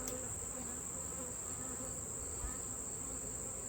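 Honey bees buzz around an open hive during a honey harvest outdoors, a steady, soft droning swarm that holds evenly throughout with no voices.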